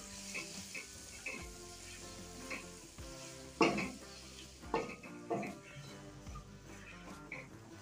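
Spices including Kashmiri red chilli powder and garam masala stirred in a frying pan for an ivy gourd and potato curry, sizzling steadily with scraping stirs and a few louder clatters.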